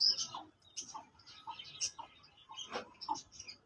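Short, faint chirps and calls from pigeons kept on a rooftop loft in Rawalpindi, scattered irregularly with brief pauses between them and no voices.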